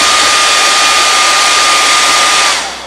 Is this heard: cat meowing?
no